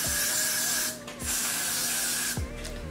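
Steady loud hiss of a Got To Be aerosol hair spray can, sprayed in long bursts with two brief pauses, close to the microphone.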